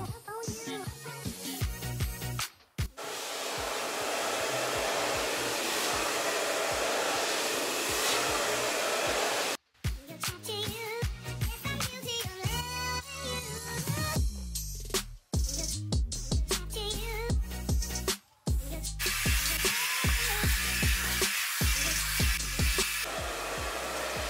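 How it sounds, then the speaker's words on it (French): A hair dryer blows steadily and loudly, close up, while hair is brushed smooth, the roar cutting out briefly a few times. A voice talks faintly under the noise. "De faire la brosse avec le sèche-cheveux comme ça vous donne quand même un effet super lisse."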